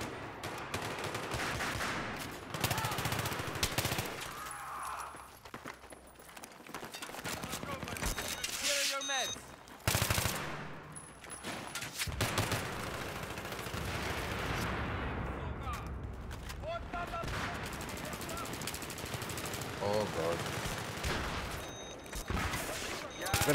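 In Battlefield 3, SKS rifle fire and other gunfire crack in rapid bursts and fusillades on the Metro map, with beeps, loud and close, while someone talks over much of it.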